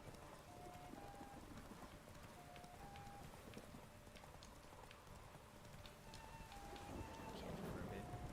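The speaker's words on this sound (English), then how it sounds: "Terrible weather to ride in. Rainy and cold and dark." Faint, steady rain falls in The Witcher 3 video game, with a horse's hoofbeats clopping under it and a few soft tonal game sounds; no clear thunder stands out.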